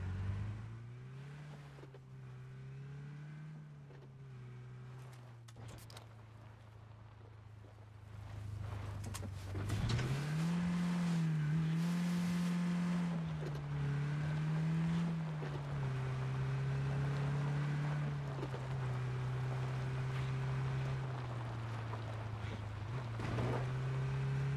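A car in the battle royale shooter PUBG drives along with a steady engine drone that surges louder and higher about midway, then holds at the stronger pitch with small wavers as it travels, without talk.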